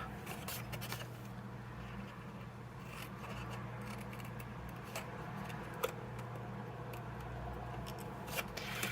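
Scissors snip through pieces of paper, cutting them in half, with faint close crisp clicks over a steady low background hum.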